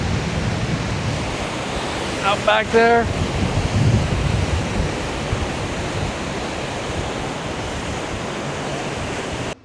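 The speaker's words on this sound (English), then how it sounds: "it's pretty windy out here. Pretty stormy" Strong wind at Lake Michigan on a stormy day roars steadily across the microphone with broad rushing noise, while a person briefly speaks partway through.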